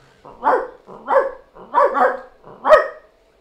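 A voice imitates a dog barking, four gruff barks in a steady rhythm with short pauses between them; he speaks Spanish, from Nayarit, Mexico.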